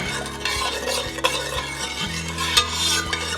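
Sugar and half a cup of water being stirred in a pan on the stove, a steady scraping swirl with faint sizzle and occasional clinks of utensil against metal, no voices.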